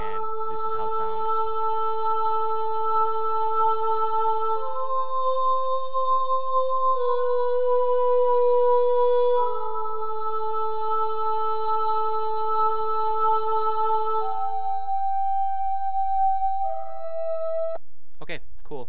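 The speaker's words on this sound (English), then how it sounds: "I just have this vocal build-up that I made, and this is how it sounds" A vocal build-up made in FL Studio plays as sustained synthetic sung tones stepping through a sequence of pitches, clean and steady for about seventeen seconds before a brief noisy ending.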